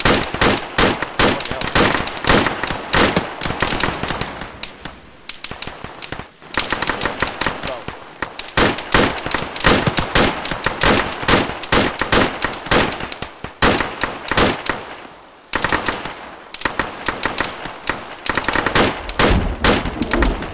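Rapid automatic gunfire in an Arma military shooter, long bursts of sharp cracks repeating through the whole stretch with brief pauses between volleys, loud and close, with occasional voices underneath.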